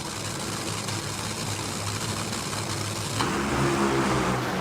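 An NHRA drag racing car launches off the starting line with a steady, loud engine roar heard from a distance. The roar swells and shifts in pitch about three seconds in.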